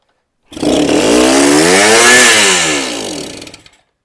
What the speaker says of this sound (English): I have no idea what this bike's going to sound like